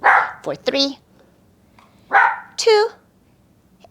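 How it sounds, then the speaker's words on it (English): A dog barks sharply several times, loud and close, in short bursts during a home yoga flow, while an instructor counts aloud between the barks. "Excuse the barking."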